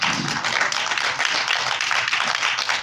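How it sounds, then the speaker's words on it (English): A church congregation claps hands during a preaching service, dense overlapping claps forming a steady, lively applause that stays loud and even throughout, with no talk on top. "clap your hands right there"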